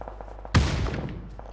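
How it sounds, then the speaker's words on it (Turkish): A single loud grenade blast in PUBG on PS4, a sudden heavy boom that rumbles and fades over about a second, following quieter game background. "attı el bombasını."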